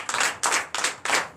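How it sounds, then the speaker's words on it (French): A church congregation at a Sunday service in Benin gives four sharp, evenly spaced bursts of clapping, close and loud, for Jesus, with no talk. "Donnez l'acclamation à notre Seigneur Jésus"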